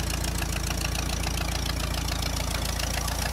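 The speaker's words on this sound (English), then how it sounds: "Today they've got a 1922 Minneapolis Threshing Machine Company steam engine." A 1922 Minneapolis Threshing Machine Company steam engine running at a farm heritage festival, a loud close rhythmic chugging with a fast even beat and steady low rumble.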